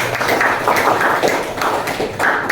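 Applause for participants during a teacher-training classroom session, a small group clapping in dense uneven bursts that swell and dip over a couple of seconds, close and fairly loud.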